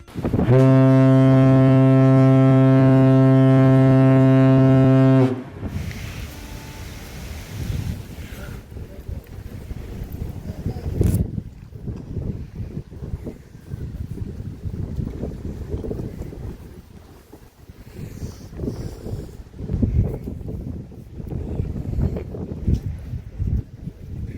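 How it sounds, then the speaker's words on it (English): A loud, sustained ship horn blasts for about five seconds at the start of a boat ride, then gives way to steady wind and water noise with engine rumble through the rest of the cruise. "we went to ride a boat"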